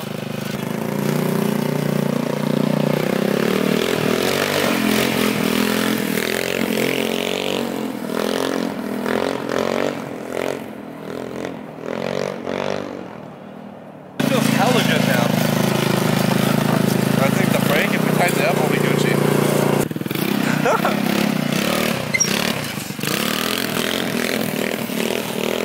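A GY6 150cc scooter fitted with a custom exhaust is ridden, its engine a loud, continuous drone that swells and revs, with wind noise and a brief drop before the roar resumes strongly.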